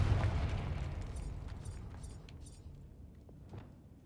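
A Confringo spell blast in Hogwarts Legacy lands as a deep booming explosion at the start, its rumble fading over a few seconds with faint crackling debris afterward.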